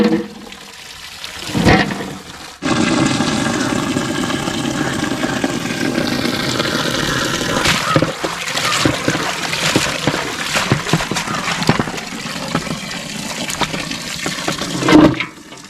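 Water pours steadily into a pan at a village outdoor kitchen during chowmein preparation, a loud continuous gush and splash lasting many seconds, close by with no voices.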